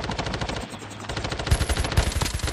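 Rapid automatic gunfire in the video game Call of Duty Mobile, dense continuous bursts of shots, loud and close, with no talk over them.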